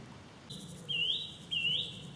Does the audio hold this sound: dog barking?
no